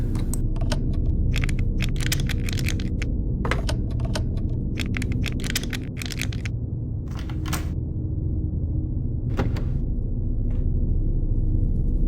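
Lock tumbler being picked in a video game, bursts of quick fast clicking and ratcheting taps in clusters separated by pauses, over a constant low rumbling drone, no talking.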